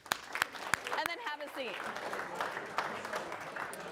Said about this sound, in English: All right, guys, give yourselves a round of applause.